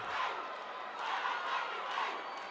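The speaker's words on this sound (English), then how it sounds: "Crowd cheering, trying to get both teams fired up for the last few minutes of this game." Spectators at an under-18 rugby match cheer and shout in sustained waves, a broad roaring crowd heard from a distance with swells of rising excitement and no single voice standing out.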